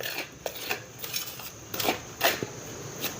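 A spoon scrapes and taps against a dish while mixing hot oil into flour dough for fried modak, making soft repeated scraping strokes at a close, quiet level.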